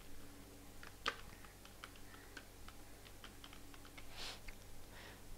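Keys clack on a computer keyboard as a menu title is typed in, a quiet run of light, uneven taps with a few louder strikes standing out against a faint background hum.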